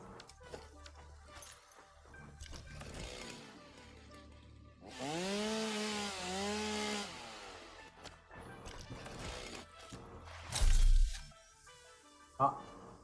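A chainsaw in the video game Satisfactory cuts wood, a buzzing rev lasting about two seconds amid quieter game noises, with a voice speaking around it and a sharp crash afterward.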